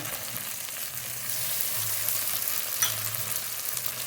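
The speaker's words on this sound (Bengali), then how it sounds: "এবার বাকি মশলাগুলো দিয়ে দেবো ধনে জিরে শুকনো লঙ্কা বাটা" Ground pastes of coriander, cumin and dried chili frying in a pan make a steady, moderate sizzle and hiss, close by, with a faint scrape or two and no talking.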